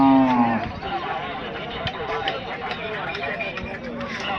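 A bullock lets out a low moo at the start, then a busy outdoor crowd at the Lasur Station cattle market keeps murmuring and chattering in the background.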